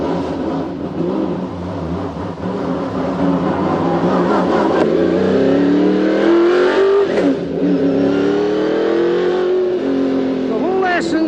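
A race car engine fires up and revs loudly on a racetrack, a dense sustained roar with rising and falling pitch as the throttle is worked, close and continuous.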